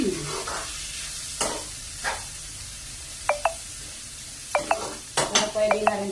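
Vegetables and ground meat sautéed in a pan for a mung bean dish, with sizzling under a few sharp clinks of a spoon against the pan, spaced out and then clustered near the end.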